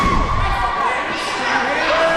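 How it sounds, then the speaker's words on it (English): Crowd at an independent pro wrestling show cheering loudly, with shouts and whistles rising over a dense roar and a thud early on. "Crowd going crazy for Team"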